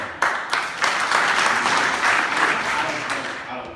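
A crowd at a county commission meeting on changes to a trauma center bursts into loud, sustained applause that starts suddenly, holds steady and then thins out, with some voices mixed into the clapping.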